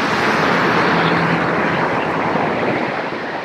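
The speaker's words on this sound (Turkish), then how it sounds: "Polis arabası." A police car rushes past close by with a loud, steady broadband roar that slowly fades as it moves away.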